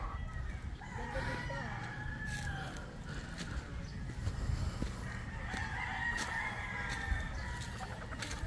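Several game fowl roosters crow on a farm range, two clear long crows with softer clucks between, set against a low background hum and light talk.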